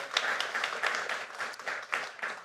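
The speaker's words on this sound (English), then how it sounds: "Let's give Kevin a round of applause for that beautiful slide" Audience applause at a talk: a faint patter of scattered hand claps from a small group, uneven and thin, lasting a couple of seconds.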